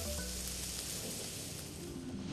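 Butter sizzles in a hot pan, a steady dense hiss and crackle that stays close and fairly even throughout, with no voices over it.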